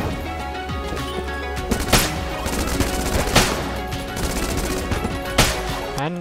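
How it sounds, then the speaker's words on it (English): A rapid-firing gun in the video game Enter the Gungeon sends out a dense, continuous stream of shots, broken by a few heavier impact bursts over busy game sound effects. "It's got an impressive rate of fire."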